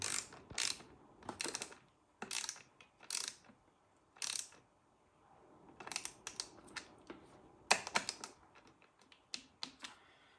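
Sharp mechanical clicks from tightening a terminal connection on LiFePO4 battery cells, arriving in quick bursts of two or three with short pauses between, close and fairly crisp with no talking.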